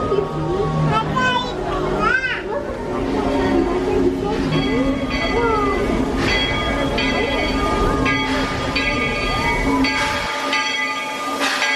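A Walt Disney World Railroad train rolls past a crowded station platform with steady rumble and clatter, a brief whistle or horn sounding early on, while children and adults chatter throughout.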